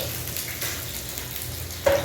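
Onions, four medium ones, fry in a pan with cardamom for a fish curry, giving a steady low sizzle that runs evenly throughout, with a brief sharper crackle near the end.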